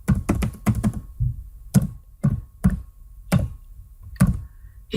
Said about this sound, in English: And now I need to type in the name of the file.